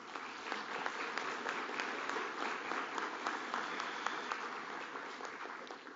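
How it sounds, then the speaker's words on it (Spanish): Audience applause at the close of an expert panel on energy access and energy poverty at a global energy forum, a steady wash of many hands clapping for the full six seconds at moderate level, with no voices on top. "Un aplauso, por favor."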